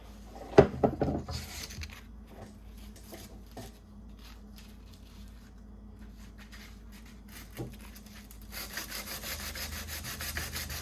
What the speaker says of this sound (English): So now I'm gonna just do the final sanding.